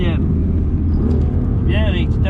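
A BMW M2 CS on a race track accelerates lightly with a steady engine rumble heard from inside the car, while an instructor talks over it.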